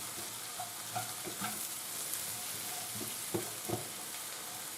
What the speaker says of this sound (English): we'll just throw in the sliced mushrooms